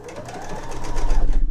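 A sewing machine runs a short burst of rapid stitching along a seam on a fabric eye pillow, the motor whir rising in loudness as it speeds up, close and clear with no talk.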